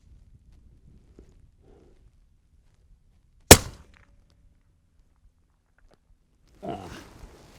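A rifle mounted on a tripod fires a single sharp, loud shot at a shooting range, breaking a near-silent stretch. A faint voice is heard briefly a few seconds later.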